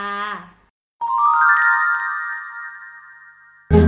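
Bright chime-like notification bell tones ring out alone, a short harmonic tone fading before a brighter sustained ringing chord that decays over a few seconds, with a brief burst of another sound at the very end.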